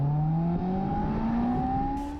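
Honda S2000 Edition 100 sports car engine revving steadily, its tone climbing smoothly over about two seconds, loud and close with no talk.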